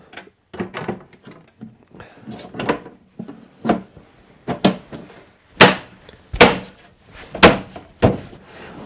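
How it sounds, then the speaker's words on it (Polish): A Platinium internal drawer is handled and slid during fitting, giving a series of close wooden knocks and sharp thunks that grow louder and more spaced toward the end, with no talk. "biorę szufladę"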